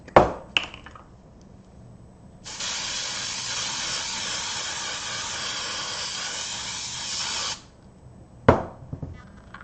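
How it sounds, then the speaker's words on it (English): Roberts 8200 Quick Bond spray adhesive hisses steadily from an aerosol can onto a rug for about five seconds, framed by short clicks and rattles of handling before and after. "Next up, we have something called Roberts 8200 Quick Bond. This is a spray adhesive."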